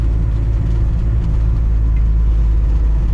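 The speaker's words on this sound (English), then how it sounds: "Old truck, everything rattles." An old column-shift three-on-the-tree truck driving in low gear, its cab rattling over a loud, steady engine rumble and road noise close up.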